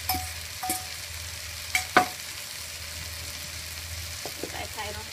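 Egg frying in a little oil in a pan while making yakisoba: a continuous soft sizzling hiss, broken by a few sharp clicks and scrapes of a utensil against the pan.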